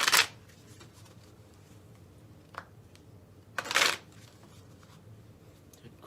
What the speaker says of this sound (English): go ahead and shuffle the cards for me,